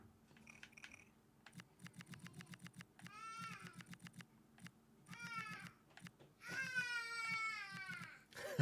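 A cat meows in a game session, with several drawn-out, rising and falling cries near the end, heard over a steady background hum and rhythmic clicking with no talk.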